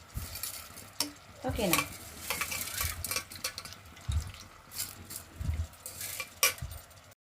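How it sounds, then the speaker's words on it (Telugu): Washed rice is tipped into a pan of fried onion, chili and ginger, followed by uneven scraping stirs and a soft sizzle, with a brief word spoken. "మనం కడిగేసి తెచ్చుకున్న ఈ బియ్యాన్ని ఈ ఉల్లిపాయ, మిర్చి, అల్లం ఇవన్నీ వేయించుకున్నాం కదా, దీనిలో వేసేసుకోవడమే"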